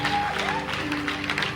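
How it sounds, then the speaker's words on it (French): Church congregation applauding during a service, steady brisk clapping with musical tones sustained underneath throughout. "Acclame les gens."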